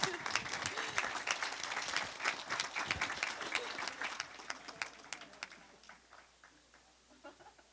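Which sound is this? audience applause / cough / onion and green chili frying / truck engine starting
audience applause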